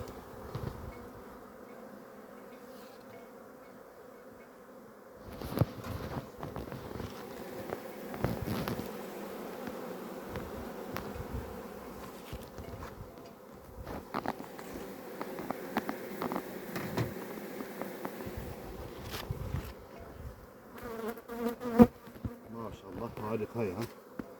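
Honeybees buzz steadily around open hives during an autumn honey harvest, a dense continuous drone with louder bursts as bees fly close, and occasional clicks and handling noises of frames being lifted.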